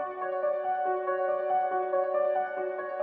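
A Nexus piano arena-style melody layered as two offset copies, with bright, ringing sustained tones stepping through a slow line and a steady wash of reverb, alone without voices.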